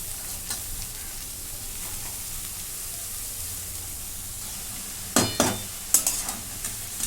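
Chopped dill greens sauté in a pan with a soft, continuous sizzle, then a few sharp clinks and scrapes of stirring near the end.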